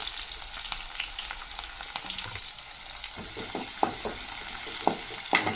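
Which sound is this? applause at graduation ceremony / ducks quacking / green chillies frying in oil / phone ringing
green chillies frying in oil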